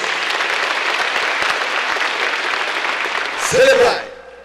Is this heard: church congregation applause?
yes